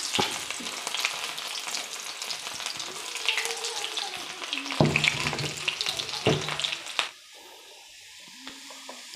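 Small onions drop into hot coconut oil with popping mustard seeds, giving a loud, crackling sizzle with stirring that runs for about seven seconds before dropping to a faint simmer.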